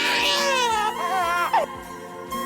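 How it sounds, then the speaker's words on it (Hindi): A dog makes a high, wavering, cat-like whine with falling and rising pitch, ending in a short squeal; close and fairly loud. "कुत्ता भी बिल्ली की आवाज निकालने लगता है"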